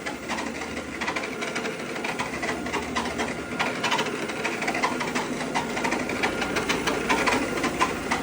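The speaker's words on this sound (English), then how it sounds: "you can get started on the shop vac. Just wheel it over here." A shop vac runs steadily and loudly up close, its dense rushing whine and rattle holding for the whole stretch as it cleans a barber shop floor.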